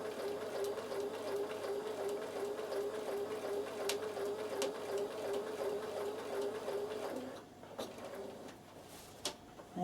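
Bernina sewing machine quilting fabric, running as a steady, fairly quiet mechanical whir that stops near the end, followed by a few faint clicks.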